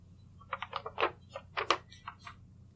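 Fingers type a short title on a computer keyboard in Microsoft Excel, a quick run of about a dozen close, light key clicks in two bursts against a quiet background.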